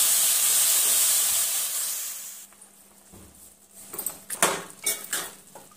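Mutton keema with onion and green chillies cooking covered on low heat in a pan, first a loud steady steam hiss, then quieter bubbling with a few clinks of a lid or utensil.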